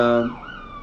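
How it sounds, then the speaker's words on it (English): A short burst of siren on a morning television show, a loud, close wail that slides downward and fades within a second. "just a little siren time here"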